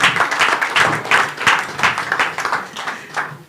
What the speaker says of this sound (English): Please, a round of applause as I welcome to join us on the stage.